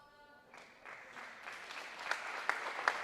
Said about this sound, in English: everybody here, Bronco fans and Cougar fans alike, applauding as she comes off